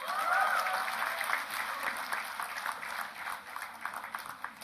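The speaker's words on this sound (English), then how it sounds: "Please cheer for our students." An audience at a university convocation applauds graduating students, a sustained, fairly loud wash of clapping that carries steadily throughout, with faint crowd murmur mixed in.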